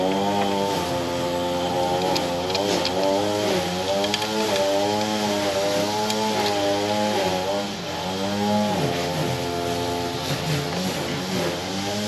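A neighbor's gas string trimmer runs nearby, a buzzing two-stroke whine that repeatedly rises and dips in pitch as the throttle is worked, steady and fairly loud throughout.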